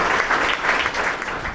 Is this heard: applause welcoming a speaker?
yes